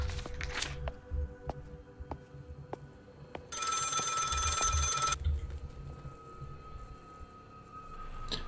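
Telephone ringing in the horror video game Maid of Sker: a loud electric bell ring lasting about two seconds, preceded by soft rhythmic footsteps and followed by a faint lingering tone.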